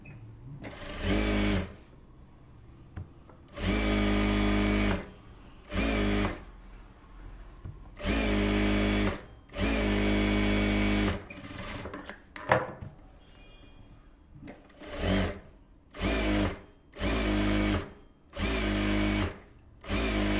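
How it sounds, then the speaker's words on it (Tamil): A sewing machine stitches a folded seam on a silk cotton saree blouse, running in loud repeated bursts of about one to two seconds each with short pauses between them, close up and with no talking. "உள்ள அப்படியே மடித்து தச்சிருங்க."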